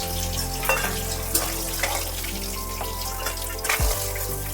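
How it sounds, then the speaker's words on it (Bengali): Hilsa fish heads fry in hot oil in a pan, with a continuous close sizzle and bubbling, occasional soft pops and a brief clatter near the end, and no talking. "ইলিশ মাছের মাথাগুলো ভালোভাবে এপিট ওপিট ভেজে নেওয়ার পর একটা পাত্রের মধ্যে তুলে রেখে দিতে হবে"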